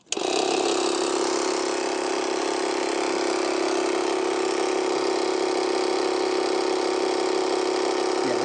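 A small tyre air pump motor starts abruptly and runs with a loud, steady droning buzz that holds unchanged throughout, close up.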